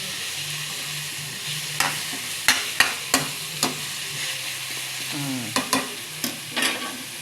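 Eggplant and other vegetables sizzle in a pan for a stew, with a steady fry under repeated sharp clinks and scrapes of a utensil stirring against the pan, close and fairly loud.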